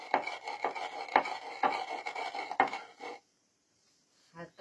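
Roasted chillies crushed in a metal idli plate, heard as a close series of rhythmic scraping and grinding strokes for about three seconds, then near-silence with a faint clink at the end.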